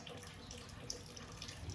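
Water running steadily from a tap while dogs are bathed, a faint, continuous splashing hiss with no talk.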